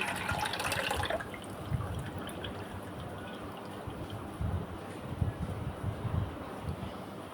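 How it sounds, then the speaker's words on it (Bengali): A milk mixture is poured over set caramel in a pudding dish, a bright splashy pour at first that settles into a steady, soft liquid rush, close and moderately quiet. "এখন আমি এর মধ্যে আগে থেকে রেডি করে রাখা দুধের মিশ্রণটা এর মধ্যে ঢেলে দিচ্ছি"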